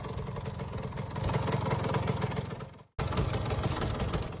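Classic 1970s Harley-Davidson SX 250 trail motorcycle, built by Aermacchi, with a steady engine drone that cuts out briefly and then picks back up, close and fairly loud.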